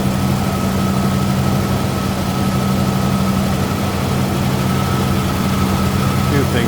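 A 1955 Buick Super convertible's 322 V8 idles smoothly, a steady low rumble with a faint higher hum running close and unchanging through the whole stretch.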